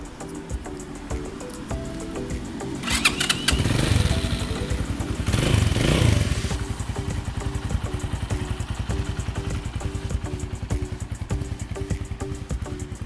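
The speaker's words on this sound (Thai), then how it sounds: "เครื่องนิ่มมากนะครับ รถพร้อมใช้งานนะครับผม" A 2019 Stallion Makina 250 cafe-style motorcycle engine idling close by with a steady, even thumping pulse, briefly revved twice to a louder roar before it settles back to a smooth idle.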